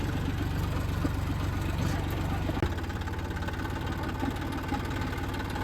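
A tractor engine idles on a farm during a cumin harvest, a steady low rumble close by that runs without a break through the whole stretch.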